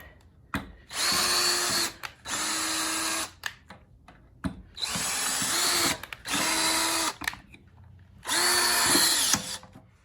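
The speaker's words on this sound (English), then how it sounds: "Bit of drilling." A power drill whirs in several sustained bursts of one to two seconds each, with short pauses and clicks between them, loud and close, during a Volvo V70R subframe bushing install.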